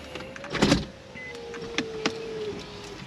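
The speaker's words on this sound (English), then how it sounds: "Let me put these windows down." Power windows on an Infiniti G37 motoring down, a steady electric whine running for about two seconds with a faint click at the start, fairly close and quiet inside the car.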